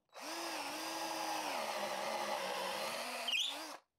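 A Parkside 20V cordless drill-driver bores with a 13 mm bit in one sustained, high, whining burst of about four seconds. The motor pitch wavers slightly under load before it stops abruptly.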